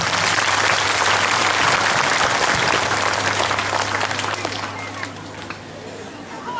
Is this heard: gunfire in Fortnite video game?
no